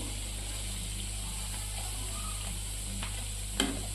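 Stuffed bread pakoda, filled with potato curry and chutney, frying in hot oil: a steady, even sizzle runs throughout with a faint clink near the end.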